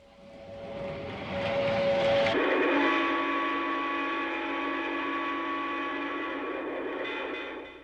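Lionel model trains rumbling and whirring along the track, a steady mechanical drone with a sustained whistle-like tone, fairly close and continuous.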